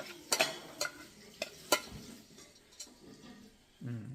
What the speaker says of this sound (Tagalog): Halu-haluin mo lang yung mga gusto mong ilagay.